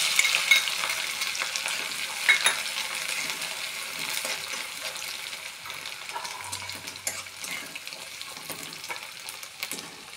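Ginger, garlic and coconut paste frying in hot oil for katachi amti. The pan sizzles and hisses steadily nearby while a spoon scrapes and stirs now and then, and no one talks.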